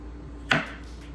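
A single sharp knife chop through the end of a vegetable on a cutting board, trimmed before pickling, heard once up close in a quiet kitchen.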